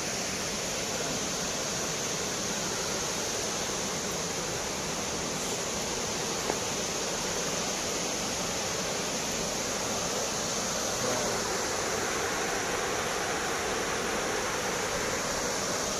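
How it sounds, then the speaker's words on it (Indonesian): Rushing water in a forest setting by a river and waterfall, a constant, even broadband roar that holds unchanged throughout with no voices. "memanfaatkan background suara air. Ya, suara air dan background ini hutan ya"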